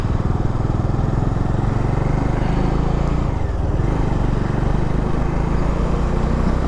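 A motorcycle carrying two riders runs continuously at close range, its engine drone holding steady with slight rises and dips and no speech.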